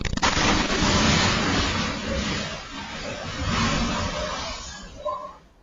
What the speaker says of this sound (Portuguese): uma câmera de segurança registrou o momento do barulho de uma explosão em Olinda